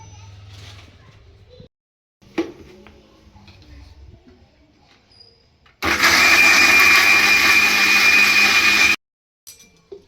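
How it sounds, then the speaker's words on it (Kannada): An electric mixer grinder blending a sweet mixture with water and jaggery. After quiet kitchen handling sounds, the motor roars loudly for about three seconds, then cuts off abruptly. "ಮಿಕ್ಸಿಗೆ ಹಾಕೊಂಡ್ಬಿಡ್ತೀನಿ ಫಸ್ಟ್"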